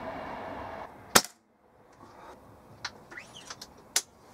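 A Weihrauch HW97 spring air rifle with a replaced spring fires a single sharp crack, followed by quieter clicks and a second sharp snap, outdoors with no talk.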